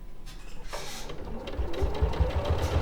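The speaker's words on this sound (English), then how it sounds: "sewing the second part of the seam" A sewing machine stitches a seam in quilting fabric, its motor whirring close and loud with a steady rhythmic needle thump building after a brief start.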